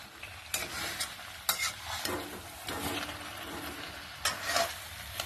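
Meat being stirred in a hot pan, a soft background sizzle broken by repeated scraping, clattering strokes of a spatula at an uneven rhythm, close-up and fairly quiet.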